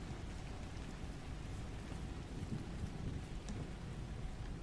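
Rain in the video game Vintage Story: a faint, continuous hiss of steady rainfall with a low rumbling undertone, unbroken and even, with no voices.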